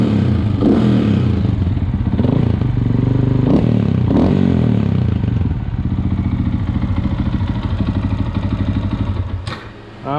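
A Beta 125RR-S two-stroke dirt bike with a big-bore kit revs close by in short sharp blips, then settles into a loud, rattling idle.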